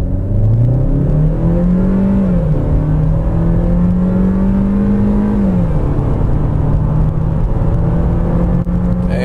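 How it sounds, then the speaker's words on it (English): A 2015 Chevrolet Trax with the 1.4 liter engine accelerates hard from a stop onto the highway, its engine note climbing steadily in pitch, dropping at a gear change, then climbing again, loud and continuous inside the cabin. "let's get a quick highway pull in from a stop. Foot down."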